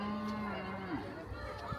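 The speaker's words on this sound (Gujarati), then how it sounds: "અહીંયા ગાય દેખાય છે" Cows mooing in the park grounds of the Hare Krishna temple in London: one long, drawn-out moo that bends downward, with faint rustling farm background behind it.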